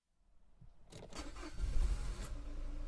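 Car engine starting in the Minetest video game, a rising mechanical crank that catches within a second and settles into a steady, fairly loud idle with a deeper surge partway through.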